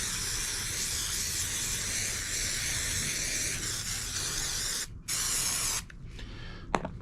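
A continuous loud hiss of a spray adhesive can spraying for about five seconds, then a brief pause and a short final burst.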